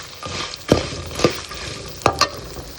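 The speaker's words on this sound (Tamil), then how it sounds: "இப்போ நாம் இதில் கரைச்சி வச்சுருக்க புளி கரைசலை இதில் சேர்த்துடலாம்" Tamarind extract poured into hot oil in a pan while making puliyogare paste, giving a soft continuous sizzle broken by three or four louder stirring scrapes of a spoon against the pan.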